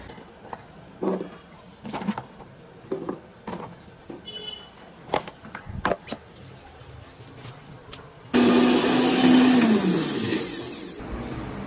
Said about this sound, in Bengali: এখন আদা রসুন না, আদা না, শুধু রসুনটা ব্লেন্ডার করে নিব